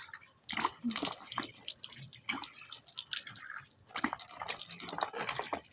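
Food rinsed by hand under running tap water, with irregular splashing, dripping and trickling sounds close by and no voices.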